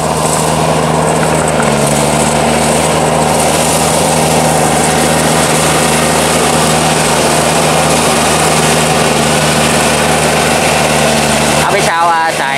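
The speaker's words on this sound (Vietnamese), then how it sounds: "đây là cái là động cơ ha, động cơ đầu nằm đây" A homemade tiller's engine runs steadily up close at a loud, constant pitch with a droning hum throughout, joined by a brief rattle near the end.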